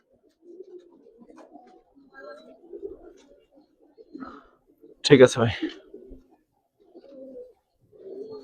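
Soft cooing from Giribaz pigeons at a pigeon farm comes and goes in short low bursts, with someone talking briefly over them and one louder clattering moment in the middle.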